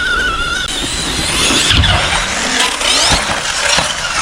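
A video game car engine revs hard while climbing a ramp, loud and continuous, with tires scrabbling for traction and engine pitch rising and falling over several seconds.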